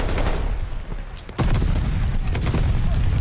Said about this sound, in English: There's so many nades going down the hallway